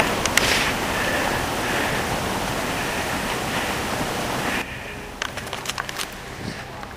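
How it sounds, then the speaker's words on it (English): A giant wet snow avalanche barrels down a mountain and pounds over a chockstone, making a loud, continuous roar that cuts off abruptly to a quieter scene with scattered clicks and rustles. "a giant wet slide comes barreling down the mountain"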